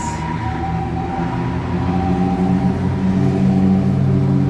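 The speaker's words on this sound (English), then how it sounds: "Oh, that's loud. Loud ambulance." A loud, wailing ambulance siren passes close by on a Tokyo street, its tones sustained over a steady rumble of traffic.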